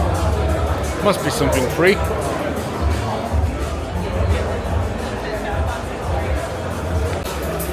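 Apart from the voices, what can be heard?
crowd at Spoon stand, Japfest car show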